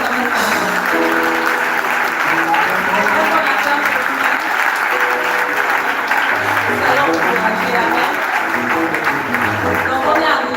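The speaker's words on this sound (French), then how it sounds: "Moi, je voudrais qu'on acclame pour nous-mêmes." An audience at a religious conference claps together in sustained, loud applause, a dense wash of hands lasting throughout, with some voices mixed in.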